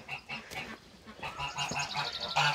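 Geese honk repeatedly in their farm pen, harsh nasal calls from several birds overlapping in uneven bursts at moderate distance, with a few duck-like quacks mixed in.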